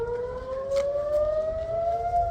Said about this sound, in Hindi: सायरन तेज़ी से बज रहे हैं